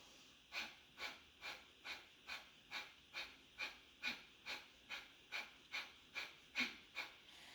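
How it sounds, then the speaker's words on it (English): Kapalabhati breathing: rapid, rhythmic forceful exhales through the nose, about two per second, evenly spaced and close, with no talking. "Kapalabhati is a rapid inhale, aggressive exhale, like loud exhale,"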